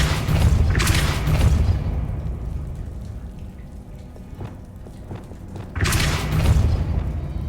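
A Depulso spell is cast in Hogwarts Legacy, heard as a loud broadband whoosh and boom at the start and again near the end, with a quieter rumbling stretch and faint thuds in between.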